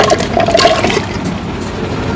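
Washed rice and dal tipped into a pot of hot water for khichuri, a short wet splashing pour loudest in the first second, then a steady watery hiss continuing alone.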